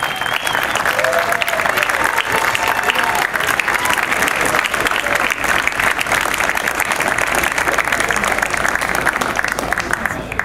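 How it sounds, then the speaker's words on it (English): A crowd at an alumni award presentation breaks into loud, dense, continuous applause. Scattered voices and cheers mix into the steady clapping throughout. "I'd like all of you to join me in giving them a round of applause"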